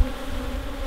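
Honey bees buzz at a beehive in a steady, close, dense drone that holds level throughout, with no voices.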